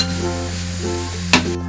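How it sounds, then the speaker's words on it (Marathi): Modak filling with dry fruit and cardamom powder gets stirred in a pan over a steady low background hum, with one brief louder scrape near the end and no talk. "चांगलं व्यवस्थित मिक्स करूया।"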